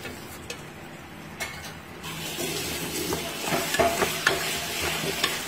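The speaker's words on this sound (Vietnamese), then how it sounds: "sau đó chúng ta đi xào xương và ninh xương." Marinated bones stir-fried with garlic, ginger and shallots for a bone and mushroom soup, a continuous close sizzle that grows louder, with scraping stirs and small clinks throughout.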